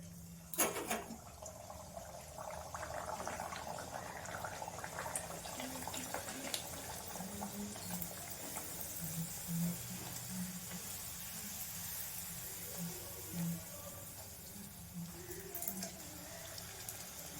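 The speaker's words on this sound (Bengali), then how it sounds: "তেল গরম হয়ে গেছে, এরপর আমি দিয়ে দেবো একটা।" Green-pea kachori sizzling in hot oil gives a steady, close bubbling hiss that runs unbroken for the whole stretch, with a brief louder splash near the start.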